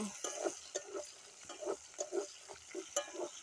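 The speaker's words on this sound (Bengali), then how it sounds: "এবার ভালো করে নাড়াচাড়া করে নেব" Steady scraping and stirring of chopped onion, garlic, carrot, beans, peas and capsicum in a hot pan for Schezwan chicken fried rice, with a soft sizzle beneath rhythmic utensil strokes, close and fairly quiet.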